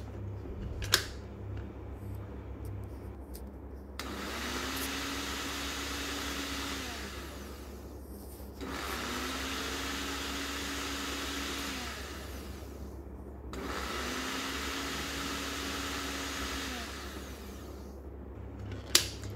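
A multi grinder grinding psyllium husk runs in three loud whirring bursts of about four seconds each, separated by short pauses, with a steady motor drone.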